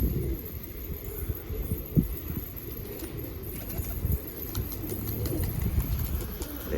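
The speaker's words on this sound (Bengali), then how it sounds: "এই নর পায়রাটা পুরো মস্তিতে আছে।" Pigeons, among them a lively male, cooing in a loft: low throbbing coos repeat under a constant hum, with a few sharper bumps and no talking.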